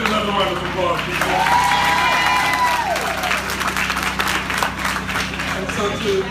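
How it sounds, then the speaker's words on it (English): An audience at a Philly Housing Authority and T-Mobile event bursts into sustained applause, dense clapping from a crowd with a voice speaking over it. "Give David another round of applause,"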